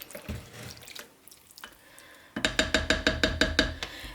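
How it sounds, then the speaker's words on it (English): Beef broth pours into a crockpot beef stew, a soft liquid splash first, then a steady, close, gurgling pour with rhythmic glugs from the container. "We're going to add a little bit more beef broth."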